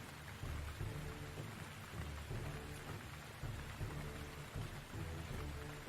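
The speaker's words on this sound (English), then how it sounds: "there's a cue for the rain" Steady rain pours down as a sound cue, with low rumbling thunder rolling through in broad swells, a dense, continuous wash that fills the whole clip without any voices.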